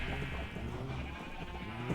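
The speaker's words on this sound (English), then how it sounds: "there's just gonna be sheep in here anyway, so it's gonna be loud either way" Minecraft sheep crowded into a pen bleat over and over, close and fairly steady, their blocky, wavering calls overlapping with no talking.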